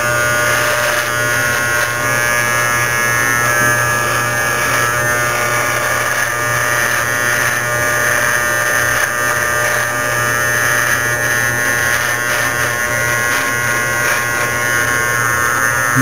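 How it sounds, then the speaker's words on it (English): An electric shaver cuts beard hair in a steady, loud, close buzzing drone that runs unbroken throughout, with no voices. "pull the hairs up so that the shaver can do its job as far as cutting the hair"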